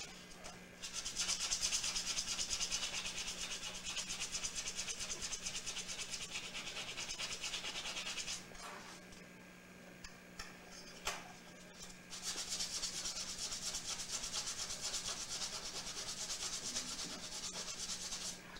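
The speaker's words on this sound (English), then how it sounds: "Get your 180 grit sandpaper, and we're going to sand this up." Sheets of 180 grit sandpaper are worked steadily over a lightsaber hilt part, making a loud, close, continuous hiss of sanding that breaks off briefly near the middle and then starts again.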